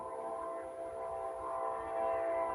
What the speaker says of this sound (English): The train is coming through.